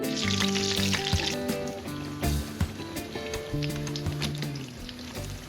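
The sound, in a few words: beguni (battered eggplant fritters) frying in oil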